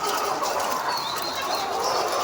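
Laying hens on a large poultry farm give off a dense wash of overlapping clucks and chatter, steady and moderately loud throughout with no voices.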